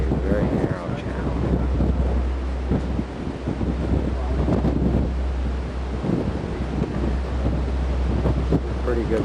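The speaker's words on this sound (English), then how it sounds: "Pretty good wind coming through here too." Wind blows over a boat moving through a narrow channel, a loud, constant buffeting roar on the microphone above a low steady rumble, with gusts rising and falling throughout.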